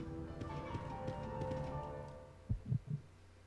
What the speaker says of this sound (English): Oh, there's the heartbeat.